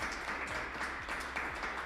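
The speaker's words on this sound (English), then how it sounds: "if we could get a round of applause for my 3 amazing guests on the podcast today" Live podcast audience applauding three guests, a dense steady wash of many hands clapping close by, continuous and even for nearly two seconds.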